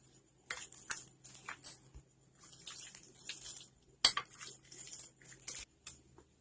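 Chicken biryani marinade with masala, coriander powder and leaves is stirred in a bowl, giving close, irregular clinks and scrapes of a utensil against the dish with short pauses between strokes.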